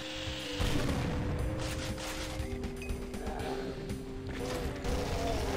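Chaingunner enemies in Doom's Speed of Doom spray rapid bursts of gunfire, a dense rattling fusillade mixed with mechanical clatter over steady droning game music.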